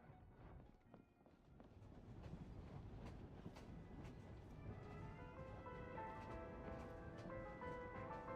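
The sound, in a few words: train moving in the video game Genshin Impact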